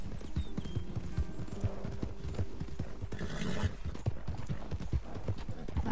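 A horse gallops in Red Dead Redemption 2, its hooves pounding in a steady rapid rhythm throughout, with a neigh partway through and game ambience in the background.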